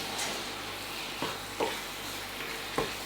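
Almond chicken korma paste being stirred in a pan, a soft low bubbling sizzle with a few light scraping knocks of the spoon, quiet and close with no talk.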